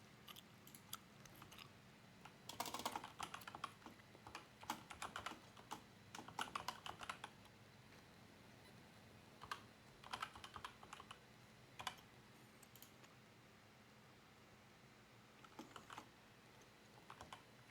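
Typing on a computer keyboard while setting up Discord bot developer resources, with quiet bursts of rapid key clicks separated by pauses, close and faint, with no talking.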